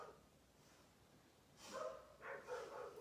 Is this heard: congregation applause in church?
no